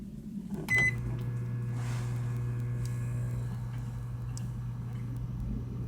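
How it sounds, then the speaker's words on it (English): Microwave oven heating macaroni and cheese outdoors, powered by an Inergy Kodiak generator: a click as it starts, then a steady low mechanical hum that runs alone and evenly throughout. "the maiden voyage of the microwave"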